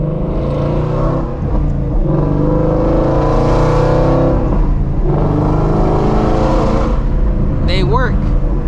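A loud Shelby GT350 Mustang with Mickey Thompson tires revs and accelerates in a steady, sustained engine roar that swells and dips, heard from inside the car with someone talking over it.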